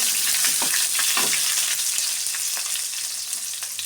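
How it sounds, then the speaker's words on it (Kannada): Chopped onion frying in oil for a chicken sambar, a dense, loud crackling sizzle that holds steady throughout, with a couple of soft stirring scrapes and no voices. "ಈರುಳ್ಳಿನ ಚೆನ್ನಾಗಿ ಫ್ರೈ ಮಾಡ್ಕೊಬೇಕು"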